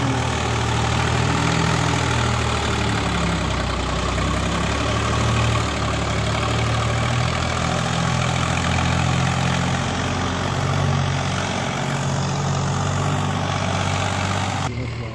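Kartar tractor engine idling steadily, a loud, continuous low rumble with constant throb throughout, no voices, cutting off abruptly near the end.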